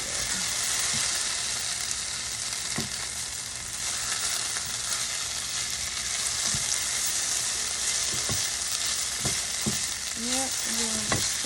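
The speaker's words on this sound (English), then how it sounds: "I'm gonna just cook our peppers a little longer" Peppers frying in a pan on a stovetop give a steady, close, continuous sizzle, broken by a few sharp clicks and scrapes of utensils stirring.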